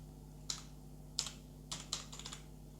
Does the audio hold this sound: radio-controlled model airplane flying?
no